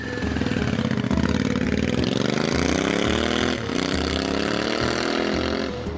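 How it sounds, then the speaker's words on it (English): A Royal Enfield 650 parallel-twin engine with a 270-degree firing order runs loudly and close, its throbbing beat rising in pitch as it revs up, then settling back. "Most powerful engine in Royal Enfield, and it has a 270-degree firing angle,"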